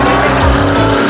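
A supercharged Daihatsu Midget runs hard on a track, its engine loud and close with a buzzing, harmonic-rich roar and a quick dip and rise in revs across a brief burst.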